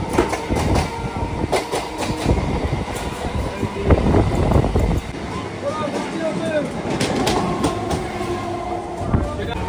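A passenger train on a 108-kilometre run from Kolkata toward Bakkhali rumbles along the rails with clattering wagon noise throughout, while people talk over it.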